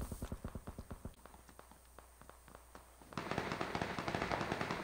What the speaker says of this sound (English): Those shots are real close.